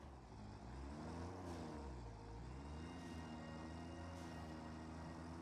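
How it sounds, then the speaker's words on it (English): A steady video-game truck engine in Satisfactory drones throughout, its pitch swinging up and down as it revs and turns doing donuts, with no talking. "And my truck's doing donuts."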